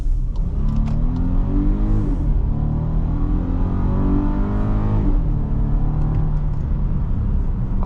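A 2023 VW Atlas SE V6 engine accelerates, heard from inside the cabin on a test drive as a steady droning rumble that rises in pitch through the gears, with a faint whistle near the end.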